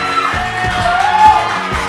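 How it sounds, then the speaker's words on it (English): Live audience at a comedy podcast recording whoops, yells and cheers in a loud, close burst of crowd noise. "Strong applause."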